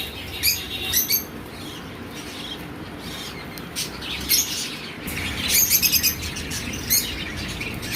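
Caged pet birds in a Changoli pet shop chatter in a constant twittering din, with sharper bursts of squawks and chirps flaring up several times over the steady background.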